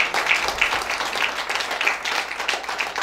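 Audience keeps clapping in a thick, continuous patter of many hands, fairly loud and even, with a few sharper individual claps standing out near the front.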